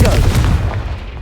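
A Confringo spell explosion in Hogwarts Legacy bursts as a heavy, close boom with a rumbling low tail that fades over about a second.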